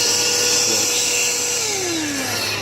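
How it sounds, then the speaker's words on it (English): A Ryobi P713 18-volt cordless vacuum running on a Ryobi lithium battery, a loud, steady high-pitched whine close to the microphone whose tone slides lower partway through, with no talking. "P713 18 volt cordless vacuum."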